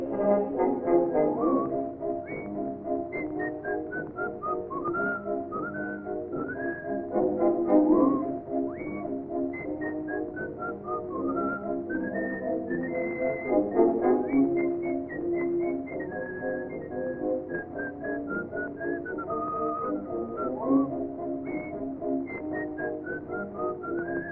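A steady, tuneful whistled melody carries on for the whole stretch, loud and close, with notes rising and falling. No talking.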